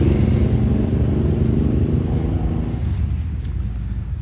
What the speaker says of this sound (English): Motorcycles going by